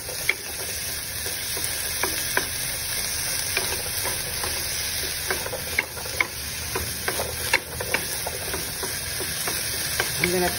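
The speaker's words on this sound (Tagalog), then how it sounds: "I'm gonna try to cook the potato first before I put the corned beef." Potatoes fry in a pan with a constant loud sizzle, punctuated by frequent small scrapes and taps of stirring, close by, while cooking before corned beef is added for a cheesy hash.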